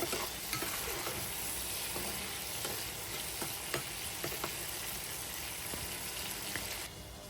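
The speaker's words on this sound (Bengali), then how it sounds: "তো আলুটা প্রায় বাজা হয়ে গিয়েছে" Potatoes frying in oil in a pan, a steady close sizzle with scattered crackles and the occasional scrape of stirring, continuous throughout with no talk.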